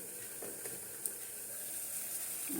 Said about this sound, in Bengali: দেখো জলটা ফুটছে